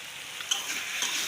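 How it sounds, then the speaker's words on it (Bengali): Small mixed fish such as molai, puti and little baila fry together for chochchori, giving a brief, steady, bright hiss of sizzling oil with faint crackles. "আর এদিকে গুঁড়া মাছ চটচটি করতেছি, মোলাই মাছ, পুঁটি মাছ, ছোট ছোট বাইল্লা মাছ সব মিলিয়ে চটচটি করব।"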